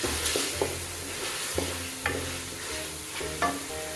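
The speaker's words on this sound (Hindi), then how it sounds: "अभी हम थोड़ा सा प्याज और अदरक लहसुन के साथ हम इसको भी फ्राई करेंगे" Chicken fries in a pan with onion, ginger and garlic, a steady close sizzle broken by several sharp scraping stirs of a spoon against the pan, with no talking.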